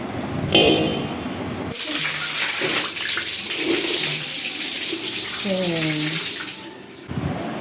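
Water from a bore pump gushes and splashes steadily from a pipe, loud and close, with brief voices underneath and a short start and stop.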